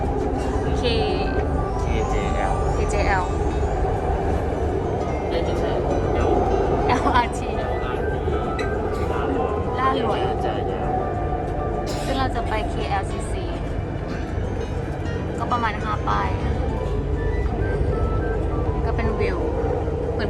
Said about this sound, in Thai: นี่เราขึ้นรถไฟมาแล้ว